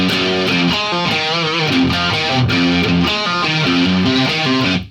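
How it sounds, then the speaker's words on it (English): A distorted electric guitar plays a short, busy riff with chugging low notes and bright overdriven tone, loud and steady throughout. "So if I play that bar, it sounds like this."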